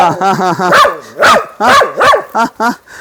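A pet dog barks repeatedly in short, loud yelps and whines up close, the calls coming in quick bursts with brief gaps between them.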